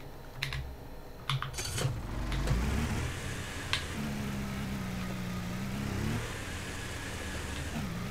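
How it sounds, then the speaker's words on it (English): A vehicle engine in the Scrap Mechanic video game, strained while climbing a hill, hums at a mid pitch and swells through the middle of the clip, with keyboard tapping and clicks in the first seconds. "I'm gonna have to adjust this engine a bit just to get up that hill"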